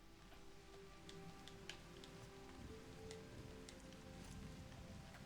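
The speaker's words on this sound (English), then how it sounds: "I should probably record the sound of the rain" Steady rain patters in Season: A Letter to the Future, a faint, dense hiss with scattered sharp drip ticks over a low rumble and no speech.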